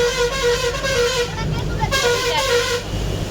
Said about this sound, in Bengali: আমরা এখন বাসে বসে আছি, এখন যাব বকখালি।